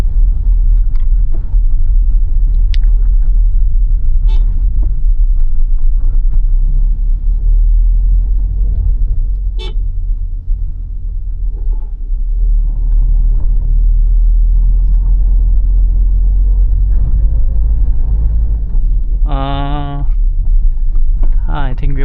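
Toyota Innova Crysta heard from inside the cabin while driving on narrow roads, a steady low engine and road rumble throughout with a few brief clicks and a short tonal chime near the end.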